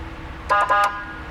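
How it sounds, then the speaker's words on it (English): Two quick, loud honks from the air horn of a 2007 Ford Crown Victoria Police Interceptor, close by, each a brief harsh blast in quick succession. "Air horn, that's the only thing I'm gonna hit."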